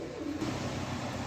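Pigeons, including two females, coo in a cage with a soft, low, rolling call heard close and clear over a brief stretch, with no talking.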